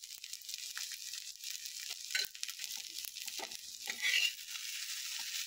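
Spice masala sizzling as vegetables fry in a pan, with a faint, steady hiss and a few soft stirring clinks nearby, and no talking.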